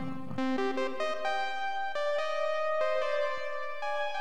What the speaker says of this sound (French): plus on tasse ce bouton vers la droite, plus on ajoute du niveau réverbéré à notre son de départ.